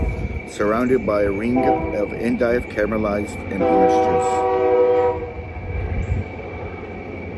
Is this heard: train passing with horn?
yes